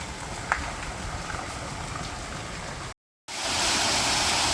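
Water rushing along the lazy river at Disney's Aulani resort, a steady broadband wash with a brief drop-out and then a louder, closer surge of splashing flow.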